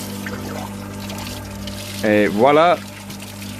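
A switched-on pump pouring hot water into a spa boat gives a steady, close splashing pour, with someone speaking briefly over it.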